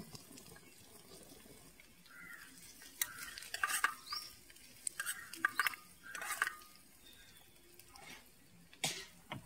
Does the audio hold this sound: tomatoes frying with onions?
yes